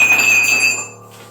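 A mug hits the floor without shattering, giving a single sharp clink followed by a clear ringing tone that fades over about a second.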